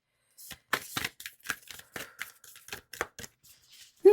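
Tarot cards are shuffled quietly up close, a quick series of soft papery taps and riffles in an otherwise silent room, followed by a brief sound at the very end.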